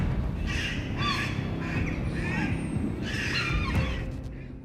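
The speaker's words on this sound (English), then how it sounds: "another rushes in immediately, cawing loudly in an attempt to drive the attacker away" Several loud, harsh crow caws come in quick succession over a steady windy outdoor rumble as one crow rushes to drive off a large attacking seagull.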